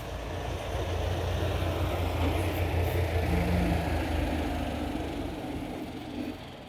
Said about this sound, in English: I paid a truck to come